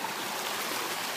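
A mountain creek flows in a steady, broad rush of water that sounds near and fairly loud throughout, with no voices.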